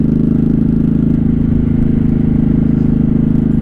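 A 1983 Honda Shadow VT750C 750 motorcycle engine runs steadily while riding, a loud close low rumble with a continuous, even throb and no talk over it.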